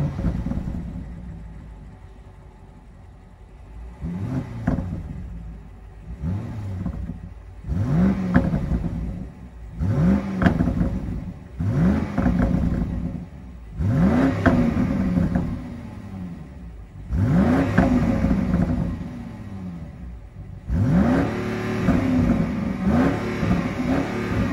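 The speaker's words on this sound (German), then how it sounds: "hier ist die M-Sport-Abgasanlage dran, Klappensteuerung, die macht einen richtig tollen Sound." A 2020 BMW X6 M50i's engine revs repeatedly up close, each rise followed by a deep burbling from the M Sport flap-controlled exhaust as it falls back, in a steady series of throttle blips.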